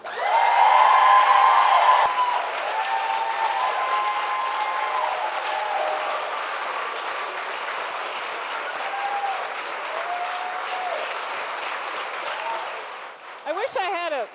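Sustained crowd applause with some cheering as author J.R. Ward is welcomed onstage at the Louisville Free Public Library, loud and steady for over twelve seconds before tapering off, with whistles and voices mixed in.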